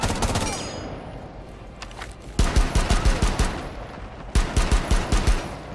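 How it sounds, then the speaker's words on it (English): Shotgun blasts in the Rainbow Six Siege video game ring out loud and close, in rapid repeated bursts with a short pause between volleys. "I know it's a shotgun."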